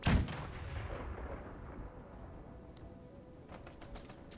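A burst of heavy gunfire from a video game shooter opens loud up front, then trails off into a rumbling tail with faint scattered shots further away.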